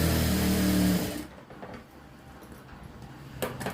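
A sewing machine runs loudly for about a second while putting a straight stitch along a blouse's back waist seam, then stops, leaving quiet handling noise.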